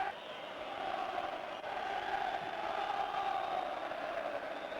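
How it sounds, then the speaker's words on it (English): Distant football stadium crowd at an FA Cup semi-final replay between Manchester United and Oldham Athletic, a steady, faint roar of applause and cheering sustained without a break. "Thunderous applause."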